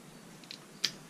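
TNT Tooling wire stripper cutting wire, a single crisp snip near the end preceded by a faint click, close and quiet with no talk.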